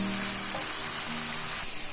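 Onion and meat fry together in a pan, giving a dense, steady sizzle like close rain that fills the whole moment without a break. No one speaks.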